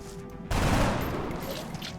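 Burst of gunfire during a turn-based squad battle in Long War XCOM, a sudden loud volley after a quiet half-second, then a sustained rattling wash of shots and echoing impacts.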